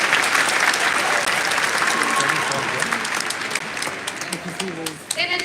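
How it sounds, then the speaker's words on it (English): Graduation audience gives sustained applause for the class of 2025 Grand Marshals, thick clapping mixed with crowd voices that thins toward the end. "let's give your Grand Marshals a round of applause"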